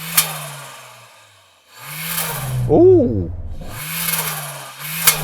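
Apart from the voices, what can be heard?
Suzuki Jimny engine revving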